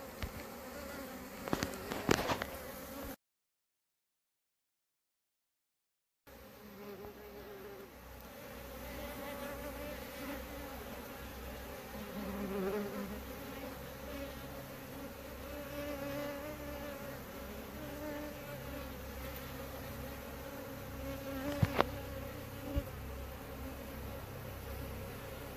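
Honeybees swarm close around a beekeeper at an open hive during mite treatment, a dense, steady buzzing hum with occasional louder passes near the microphone and a brief silent gap.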